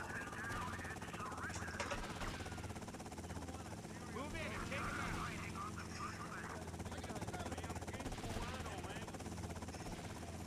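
Helicopter in the video game GTA Vice City, a steady rotor drone running throughout under game gunfire and effects, with someone talking over it.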